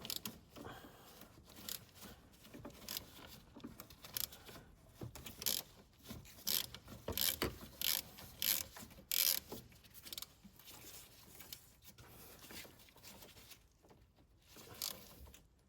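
Ratcheting as a fastener is loosened on a Mercedes W140, faint close clicking in repeated short bursts with pauses between strokes.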